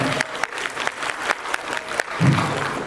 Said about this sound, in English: A huge round of applause for the panel